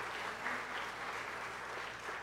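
A congregation claps steadily and loudly at a church proclamation service. The dense, even applause fills the room without pause.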